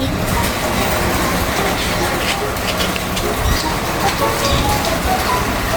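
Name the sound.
rain falling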